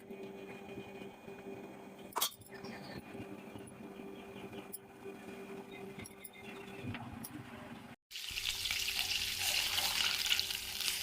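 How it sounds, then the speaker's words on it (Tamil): Cow's-milk butter simmering down into ghee in a pan gives a soft, steady sizzle with a few sharp clinks, then a brief pause and a louder, hissier bubbling toward the end. "வெண்ணெய் திரிஞ்சு நெய்யா ஆகி வருது பாருங்க."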